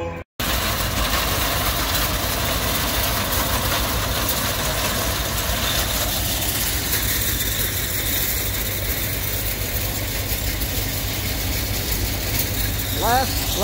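Several tractor engines idling and chugging at a tractor parade during a flywheelers show, a steady low rumble throughout with a brief cut at the start, people talking faintly underneath.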